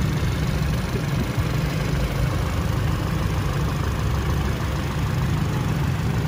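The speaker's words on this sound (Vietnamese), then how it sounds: "Tiếng động cơ của chiếc xe nó rất êm, anh chị có thể nghe qua." A 2021 Peugeot 3008 Allure engine runs smoothly at idle, a steady, even hum that stays constant throughout with no talking over it.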